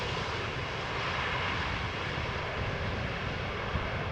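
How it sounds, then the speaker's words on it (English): A KLM Boeing 737 arriving at Amsterdam Schiphol Airport gives a steady, broad engine roar. It is moderately loud and heard alone throughout, with no talk. "KLM B737 going for the parallel arrival"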